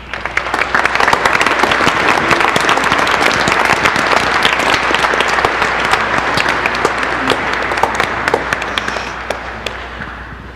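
Congregation at a Catholic Mass breaks into sustained, dense applause, many hands clapping together loudly and steadily for about ten seconds before tapering slightly at the end.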